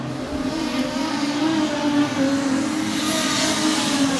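Production sedan race cars lapping a track, a loud, sustained engine roar with wavering pitch as several cars drone past together amid broadband road and crowd noise.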